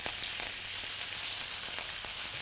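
Garlic and samphire sauté in a frying pan alongside fish being cooked, giving a soft, steady sizzle and crackle throughout, fairly quiet and with no voices.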